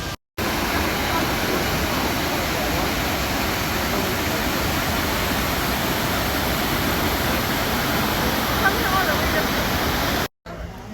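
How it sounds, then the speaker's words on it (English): Jiufen waterfall in Taiwan roars as a steady, dense rush of falling water, loud and unbroken for about ten seconds. "Jiufen waterfall is known as Taiwan's mini Niagara, and I can't lie, it's pretty sick."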